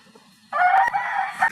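A rooster crows once, loud and close, a drawn-out call lasting about a second after a brief quiet lead-in.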